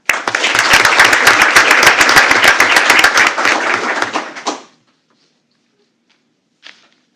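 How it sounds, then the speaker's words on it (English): A school board meeting room fills with loud, sustained applause from the audience for about four and a half seconds, then stops abruptly into near silence, with one faint brief sound a little later. "Big round of applause for Ms. Annette Taylor"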